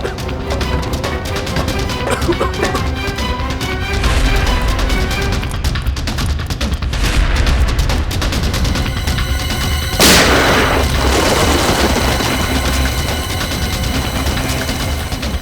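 Sharp gunshot-like bangs and crashes ring out in a dramatic crime-drama scene, several booming hits over a tense musical bed, with one especially loud burst near the end.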